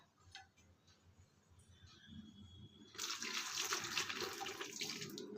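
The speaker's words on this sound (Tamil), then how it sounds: "இப்போ நம்ம சுடு தண்ணி சேர்த்துக்கலாம் இதில்" Hot water splashing and pouring steadily into a clay agal lamp coated with flour paste for cleaning, starting abruptly after a few seconds of faint clinks and continuing as a close, bright stream.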